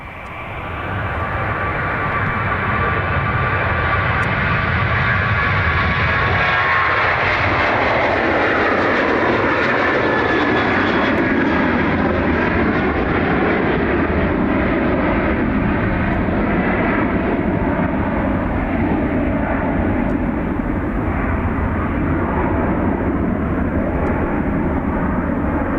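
A fixed-wing airliner takes off at Dublin Airport, its engine roar swelling from a rising whine to a loud, steady, broadband rumble that holds for the whole stretch without talk.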